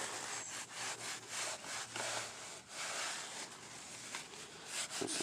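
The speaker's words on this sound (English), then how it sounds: "Let's give it a wipe down and see how this rod looks." A rag rubs and scrubs along a rusty, scaled engine hoist rod, making repeated close scratchy strokes with brief pauses between passes, fairly quiet and with no talking.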